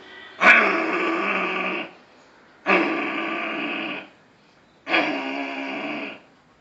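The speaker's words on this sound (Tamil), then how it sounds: "அடுத்து செருமல்." Three long, forceful throat-clearing rasps done as a yoga exercise, each lasting over a second and separated by short pauses, close and loud.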